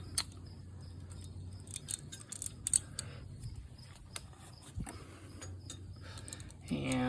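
A 5/8 socket wrench turns on the spark plug of a Kymco K-Pipe 125 scooter, giving faint intermittent metallic ratcheting clicks and small scrapes against a low background hum.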